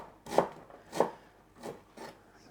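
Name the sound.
knife roughly dicing an onion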